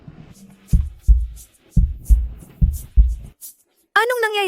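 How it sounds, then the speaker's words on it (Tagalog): A fast heartbeat sound effect thumps in deep, muffled paired beats, about six strong pulses in quick succession, loud and close. A voice rises briefly at the very end. "Bakit ang bilis ng tibok ng puso ko?"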